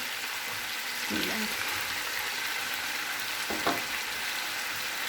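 Meat sizzling steadily in a pan for aloo gosht, with tomatoes going in and being stirred; a continuous close, moderate fry hiss broken by a couple of brief stirring scrapes.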